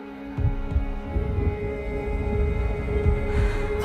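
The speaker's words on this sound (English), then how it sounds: "The heartbeat of the lost ones." Low, thudding heartbeat pulses in the video game Hellblade repeat in an irregular rhythm over a sustained droning hum, with no voices.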